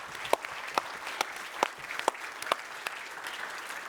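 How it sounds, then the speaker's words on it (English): An audience at a university film and television awards ceremony applauds, a steady wash of clapping with several sharper individual claps standing out at regular intervals throughout. "Let's give them a round of applause."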